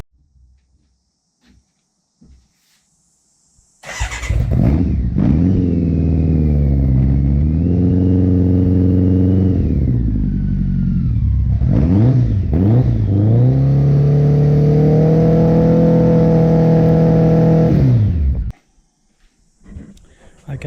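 A BMW K100 cafe racer motorcycle starts up and idles, then its engine is revved up and down repeatedly through the exhaust, loud and close, before shutting off into quiet.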